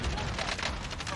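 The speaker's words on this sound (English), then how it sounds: "I don't know why I just started shooting that guy." Gunfire in the video game Warzone, a quick rattling burst of rapid shots, fairly quiet and continuous over about a second.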